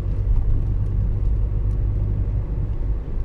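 Car driving through the town of Sławków in Poland, a steady close interior rumble of engine and tyres at constant speed, with no talking.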